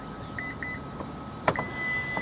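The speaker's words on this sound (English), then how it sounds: "I'm going to hold the button down and listen for the beeps." Electronic beeps from the tailgate height setting button on a 2025 Acura MDX, held down: several short soft tones at intervals over a steady low hum, ending in a longer sustained tone.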